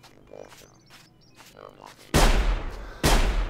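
In the Sir, You Are Being Hunted video game, two loud, sharp gunshot blasts are fired at the player in close succession after a stretch of quieter ambient sounds and faint movement.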